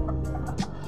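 A Malaysian Serama chicken, a tiny bantam breed about eight months old, gives a short close clucking call, soft and brief.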